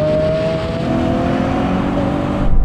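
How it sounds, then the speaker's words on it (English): A Lamborghini Aventador and a 700 hp Audi RS7 accelerate hard side by side in a rolling race, in sports mode and locked in third gear. Both engines drone loudly and rise steadily in pitch over less than three seconds. "now we're going to have a rolling race in sports mode with the cars locked in third gear"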